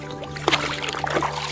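A rescued turtle is let go at a boat ramp and splashes into the water, a few short wet slaps and sloshes close by over a steady low hum.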